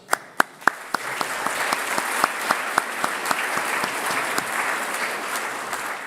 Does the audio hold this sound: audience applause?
yes